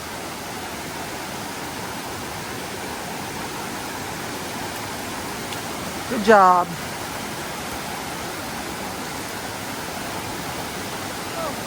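Rushing stream water at a ford crossing on the Appalachian Trail near Kinsman Notch produces a steady, loud, broadband wash throughout. A voice briefly speaks midway over the flow.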